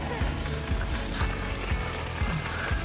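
Continuous hissing spray of water outdoors in a backyard, fairly soft and steady with faint periodic low thumps underneath, no talk.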